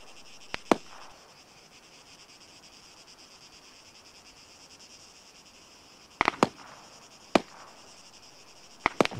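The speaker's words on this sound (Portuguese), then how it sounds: "Então tá trocando tiro aqui na minha frente." Gunshots in an Arma 3 battle royale match: a few sharp, distant cracks in short bursts, one early and a cluster near the end, over a quiet ambient bed of insect-like chirping.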